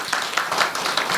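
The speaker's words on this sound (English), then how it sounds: "would you please welcome the stall owners with a big round of applause?" An audience at a business networking event in a hotel claps to welcome stall owners, a brief patter of scattered hand claps at moderate loudness.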